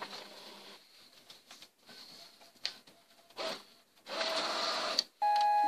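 A Brother inkjet printer printing a block pattern during printhead maintenance, heard as soft intermittent whirring, clicks and carriage movements with short pauses between bursts, ending in a brief electronic tone; fairly quiet and close.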